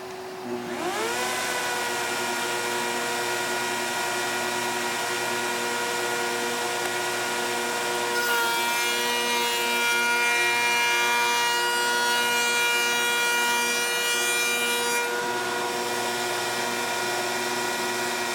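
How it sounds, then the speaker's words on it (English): A router bit machining ultralight MDF panels for raised panel wainscoting produces a loud, steady high-pitched whine with tonal harmonics, rising to a harsher cutting pass in the middle before settling back. "then we will be ready to run this bit and machine all of it"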